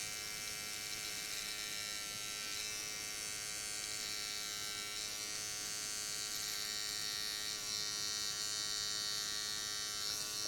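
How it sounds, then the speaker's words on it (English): Electric hair clipper cutting a man's hair for a disconnected side part with undercut, a steady high buzzing hum held continuously and close throughout. "I'm going to turn the clipper the opposite direction"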